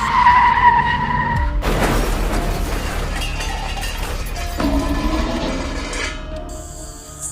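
A car skids as its brakes fail, a loud screeching tire slide and crash with shattering glass and metal, followed by lingering debris and a rising tone, as a dramatic sound effect.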